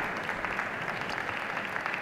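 Audience applause follows a women's yogasana semi-final performance at a national games event, a dense, steady wash of clapping from a crowd, moderately distant and continuous.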